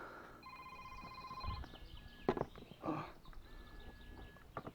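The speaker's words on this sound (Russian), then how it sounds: "Кто-то звонит." A mobile phone rings with an incoming call during a solo river rafting and fishing trip, a faint electronic ringtone in two tonal bursts among soft outdoor knocks and rustles.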